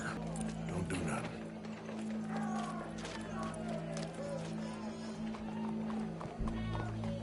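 Horse hooves clip-clopping at a run in the Red Dead Redemption 2 video game, steady rhythmic steps close by under a low music bed, with an occasional whinny; people talk over it at times.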